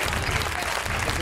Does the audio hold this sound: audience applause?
yes